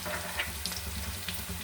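Chopped onion fries with turmeric powder, bay leaf and whole cumin in a hot pan, giving a steady, close sizzle with a few small pops and no talking.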